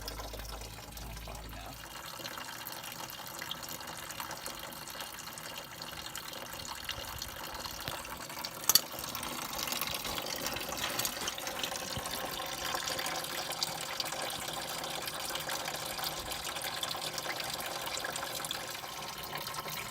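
Coolant drains from a 6.0-liter truck engine into a pan underneath, a steady soft trickle and pour that runs throughout, with one brief clank partway through.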